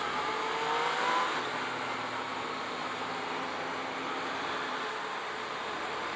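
A 2017 Yamaha FZ-09 naked sport bike engine drones steadily at moderate level under heavy wind noise while riding, with a faint rise in pitch early on and no talking.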